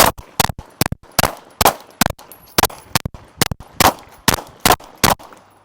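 About a dozen sharp, loud pistol shots crack out during a USPSA transitions shooting drill, fired in quick uneven bursts with short pauses between groups.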